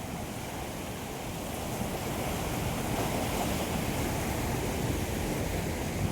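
Steady rushing of wave-tossed water at Dotiwada dam, a dense continuous wash that swells slightly louder after the first two seconds, with wind buffeting the microphone.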